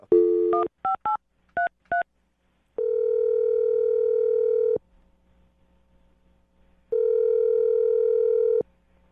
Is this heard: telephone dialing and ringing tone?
yes